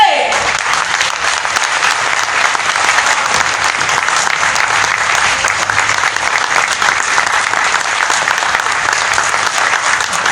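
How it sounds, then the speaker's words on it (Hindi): Loud, continuous audience applause at a drama event, dense and sustained for the full stretch without a break. "मैं दावत देती हूँ आपकी भरपूर तालीमों में।"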